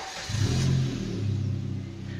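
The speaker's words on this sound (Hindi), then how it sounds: "और एक एग्जॉस्ट का नोट सुना भाई, एग्जॉस्ट का नोट सुना" A motorcycle on a group ride in Srinagar revs up, its exhaust rising into a deep, throbbing drone that holds steady, close and fairly loud.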